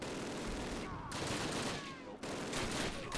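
Heavy MG42 machine gun fire in the 2003 Call of Duty boot camp mission, a dense, continuous rattle of bursts with brief gaps, loud and close amid battle noise.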